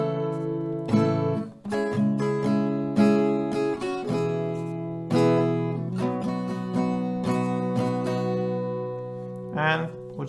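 A song is strummed slowly on an acoustic guitar in an up-and-down pattern. The chords ring clearly and close, with no talking over them.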